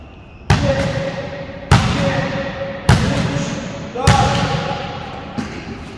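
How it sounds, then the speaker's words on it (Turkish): A handball is thrown against a wall four times at a sports-school entrance exam course, giving four sharp, loud thuds spaced about a second apart, each ringing briefly in a reverberant hall, with a quieter fifth knock at the end. "Dördüncü istasyonumuzda adayımız handball topumuzu alarak duvara dört kere atış yapar"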